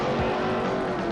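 A 1957 Chevy launches off the line at an early-'90s drag race, a loud, steady engine roar holding for about a second with no voices over it.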